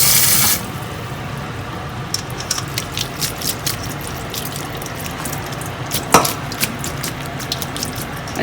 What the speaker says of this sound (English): she's rinsing it with cold water.